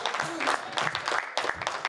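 Audience applause at a Hindi comedy poetry gathering, welcoming poet Gaurav Chauhan, with bursts of clapping rising and falling in uneven waves before stopping suddenly.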